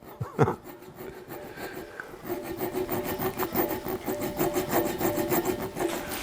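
A small needle file rasps against the hollow ball of a custom rat-rod style gear shift knob with walls about 1/8 inch thick. Quick, steady back-and-forth strokes scrape continuously and close up after a brief opening knock.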